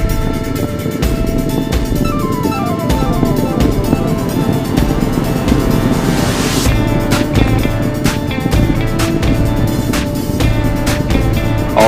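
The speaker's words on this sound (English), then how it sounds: "All three engines looking really good, back at full throttle now at liftoff." Space Shuttle Atlantis main engines at full throttle during liftoff, a loud continuous roar with broadband rumble and crackle that persists throughout, with no talk over it.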